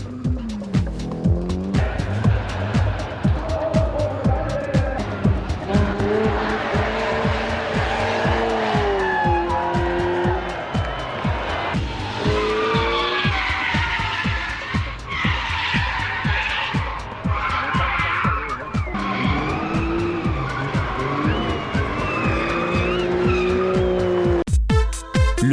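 Drift cars skid with long tire squeals and roaring engines at the Tuner GP drift competition in Germany, loud and continuous with shifting pitch as the cars slide past, with no talk.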